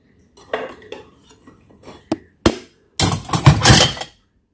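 Plates and dishes clatter as they are handled and stacked away on a home dish rack, scattered knocks and clinks first, then a louder burst of rattling ceramic near the end, close by with no talk.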